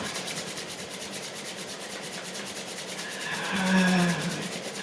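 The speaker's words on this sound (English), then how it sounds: "Begin to rub the hands together." Hands rubbing together quickly during a morning yoga warm-up, a steady soft swishing friction that swells briefly louder near the end, with no talk.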